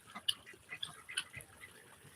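Ducks flying in over a farm give a few quick, soft quacks and squawks at moderate distance, scattered across a couple of seconds against a faint outdoor background.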